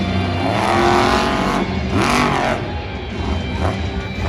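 Megalodon monster truck, driven by Corey Rummel, revs hard during a freestyle run at an Anaheim stadium show, the loud engine surging and dropping in bursts with crowd and arena noise behind it.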